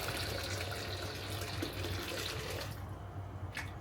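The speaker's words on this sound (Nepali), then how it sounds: "यो पानी चाहिँ मैले यहाँ हालिदिन्छु" Hot water being poured into a wok to set up steaming for fish, a steady soft watery rush for about two and a half seconds that then trails off to near silence, with no talking.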